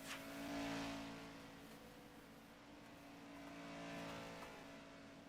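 A race car drives through the S's at Watkins Glen, a faint, distant engine drone that swells and fades in pitch as it accelerates through the esses, with no talk over it.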